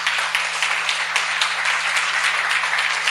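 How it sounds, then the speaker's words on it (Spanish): A church congregation applauds, a dense, steady wash of clapping holding for a few seconds without a break, close and fairly loud, with a low hum running underneath. "Si le va a dar un aplauso, déle un aplauso más fuerte"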